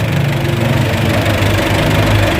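A car engine idles with its radiator cooling fan not running, giving a loud, steady, rumbling drone with a knocking texture that stays even throughout and has no voices over it.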